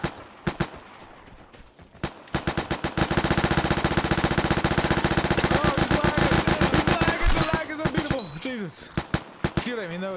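A grease gun submachine gun fires in the video game Vigor, a few single shots, then a long loud rapid burst of automatic fire for several seconds, then scattered shots, with a voice talking over the end.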